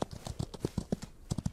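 A black horse's hooves clip-clop steadily in the video game Outlaws of the Old West, a quick, even rhythm of soft, close hoofbeats heard alone.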